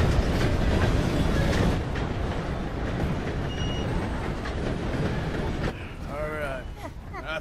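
A train rumbles past in the open world of Red Dead Redemption 2, a loud, steady clattering roar that stays close for most of the stretch before easing slightly, with faint chirps near the end.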